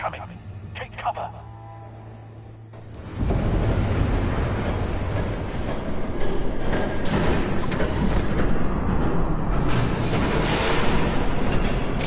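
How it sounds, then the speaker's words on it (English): In a Batman video game, a train rushes past with a loud, roaring, broadband rumble that swells suddenly after a quieter opening with game sounds, then stays heavy and continuous to the end. "There's a train coming."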